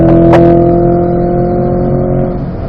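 Race car engine droning loud and steady on track, a steady held note while a short whoosh rises near the start, the pitch easing slightly toward the end.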